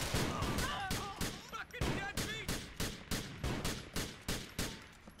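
Rapid bursts of SMG gunfire in Grand Theft Auto 4: The Lost and Damned, a dozen or so sharp volleys in a steady stuttering rhythm, loud and close throughout.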